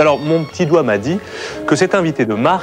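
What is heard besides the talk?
No everyday noises stand out.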